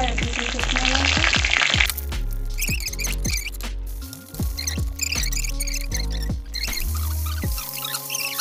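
Cumin seeds and dried red chilies fry in hot oil, a crackling sizzle with scattered sharp pops, joined by clanks and scrapes of a utensil in the pan while a voice speaks intermittently over it.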